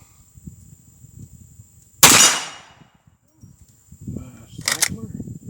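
A gas-operated Ruger Deer Slayer .44 Magnum rifle fires at an outdoor fan shoot: one loud, sharp shot, then a second crack a few seconds later, with people talking around them.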